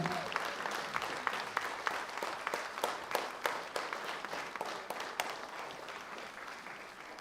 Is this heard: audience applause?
yes